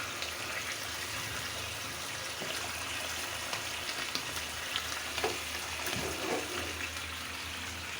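Blended onion and garlic fry steadily in a pan, a continuous close sizzle with faint stirring scrapes and no talk.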